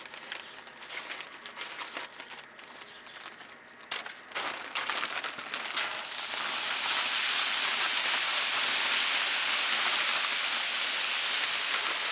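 Stir fry vegetables hitting a hot Blackstone griddle build from light crackling to a loud, steady sizzle and hiss that carries through to the end, with no talking.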